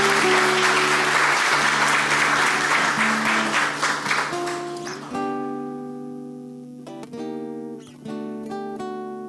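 Applause fills a city council chamber during an ordinary session, a dense broadband clatter for about five seconds that tapers off as tonal music with sustained notes takes over.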